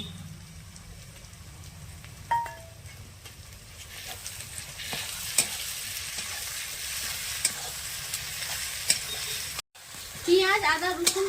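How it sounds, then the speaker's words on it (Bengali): Ginger paste hisses and crackles as it fries with onion and garlic for a home-cooked chicken curry. A spoon stirs and taps the pan now and then, and a brief voice comes in near the end. "পেঁয়াজ রসুন ভাজা হয়ে গেছে এবারে আদা বাটা দিয়ে দিচ্ছি"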